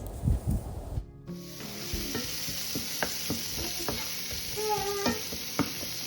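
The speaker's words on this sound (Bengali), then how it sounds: "দারুণ মজার ছোলা ভুনা করবো পেঁয়াজ ভেজে নিচ্ছি" Onions fry in oil for street-food-style chickpea ghugni, a continuous close hiss and sizzle with a loud clatter at the start, then rhythmic spoon taps and scrapes against the pan.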